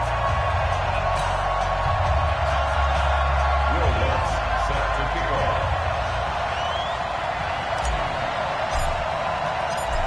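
Stadium crowd noise at a Washington Redskins versus Carolina Panthers NFL game in an EA Sports football video game, a steady loud roar running the whole time with commentary talking over it.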